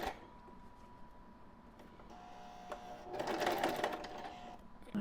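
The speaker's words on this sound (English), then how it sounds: "So we're going to take a 1/2 inch seam. I want to backtack." Sewing machine stitching and backtacking a half-inch seam on a simple pillowcase, a close, steady motor whir that speeds up into a louder rattling run of stitches midway before easing off.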